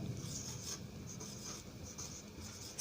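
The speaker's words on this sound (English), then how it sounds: "So we'll write the name here" A pen scratches across paper as a notice is written by hand, a faint, close, uneven scratching in short strokes with no talk.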